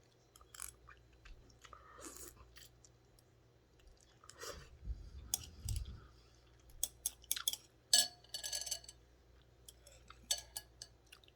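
Someone chewing and eating ramen noodles close up, with scattered crunchy bites, soft slurps and mouth clicks in irregular bursts, fairly quiet, with no talking.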